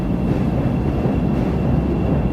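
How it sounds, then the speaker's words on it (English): A Chicago L Green Line elevated train passes in the city, a loud, steady low rumble of wheels and cars filling the whole moment without a break. "Green Line train."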